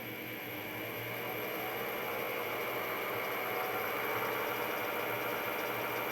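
A WEN 34027 wood lathe motor running at low speed, around 491 RPM, giving a quiet, steady hum with faint whirring, continuous and close without talk.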